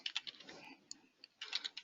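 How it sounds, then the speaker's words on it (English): Quiet typing on a computer keyboard, a few quick clustered keystrokes, a pause, then another short burst of light clicks, close and soft with no talking. "type in the first example"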